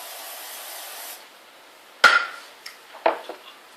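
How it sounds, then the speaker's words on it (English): A couple of short sharp bursts of palm oil cooking spray hiss close up into a mold, each with quick follow-up puffs, after a soft background hiss fades out. "We'll spray with a little bit of palm spray."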